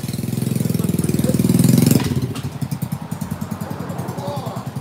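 A scooter fitted with a Malossi RC One engine revs up loudly, then drops to a lumpy, rapidly pulsing idle, close and raw.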